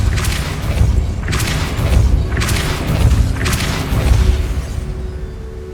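Depulso force spell being cast in the Hogwarts Legacy video game, heard as four heavy booming thumps with whooshing bursts at a steady rhythm, loud over a rumbling low background.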